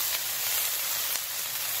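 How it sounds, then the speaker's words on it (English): Turkey bacon sizzles on a 17-inch Blackstone griddle, a constant bright crackling hiss that stays even and close with no voices. "we're going to let that turkey bacon just sizzle up real nice."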